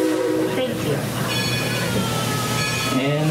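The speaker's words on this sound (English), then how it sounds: "that means this train is going into motion" The Dollywood Express steam train starts to move, with a loud steam whistle blowing over hissing steam and the low rumble of the cars, while voices talk underneath.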